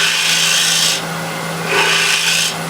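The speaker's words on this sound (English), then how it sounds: "Yeah, that's almost perfect. A little bit more scrape." Turning tool scraping a spinning wooden piece on a lathe, a steady close rasping hiss that swells and drops in two passes, with a constant motor hum underneath and no talk.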